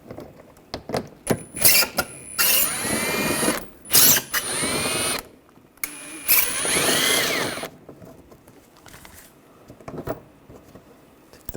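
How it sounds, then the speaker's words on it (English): A power driver with an 8mm socket backs out bumper screws on a 2013-2016 Dodge Dart, whirring in several short bursts of a few seconds each, separated by pauses and clanking handling noises. "Take those out, use an 8mm socket."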